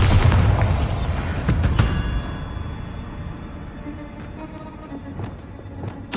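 A Bombarda explosion spell in Hogwarts Legacy, a loud, heavy boom up front that decays over several seconds into rumbling debris and scattered smaller impacts, ending with another sharp hit.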